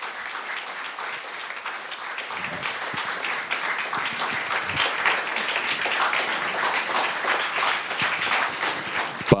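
Film premiere audience applauding the editing consultant of the Slovenian film Smučarske sanje, with dense, steady clapping from a large crowd that sustains evenly throughout and ends with a single sharper clap.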